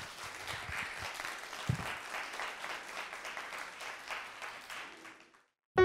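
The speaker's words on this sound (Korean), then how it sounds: "박수로 일부를 마치도록 하겠습니다." An audience claps to close the first part of a lecture on becoming a National Assembly member, sustained dense applause that gradually tapers, then a short silence before a sudden loud burst at the very end.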